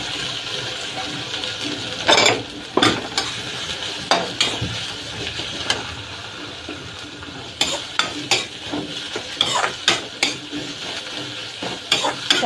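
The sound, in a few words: radish bhujia frying and being stirred in a pan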